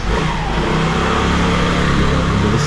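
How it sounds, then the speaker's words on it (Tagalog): Motorcycles speed past on a street in America, a loud, continuous engine roar filling the whole stretch with rising revs and no voices. "Ang bibilis nila magmotor mga kabayan"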